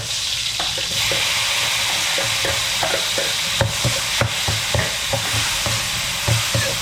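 Onions sauté in a pan for ginisang upo with malunggay, a loud dense sizzle punctuated by rhythmic scraping and tapping strokes of a spatula stirring, with no speech.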